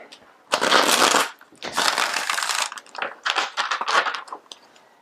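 Tarot cards are shuffled in several quick riffling bursts with short pauses between, close and crisp, with no talking.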